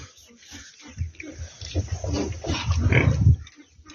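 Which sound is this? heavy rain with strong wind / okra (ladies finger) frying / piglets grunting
piglets grunting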